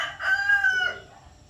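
A rooster crows once, a loud, close cock-a-doodle-doo lasting under a second, then quiet.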